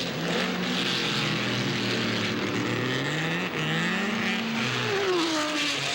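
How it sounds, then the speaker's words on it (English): 1982 IMSA GT race cars, including the Interscope Lola, at Mosport braking down into Moss Corner, the slowest part of the lap; engines drone and shift pitch up and down at a steady moderate distance, with no talk. "The Interscope Lola powered its way up to corner 4, shot under the bridge, and braking heavily, snaked its way down into Moss Corner,"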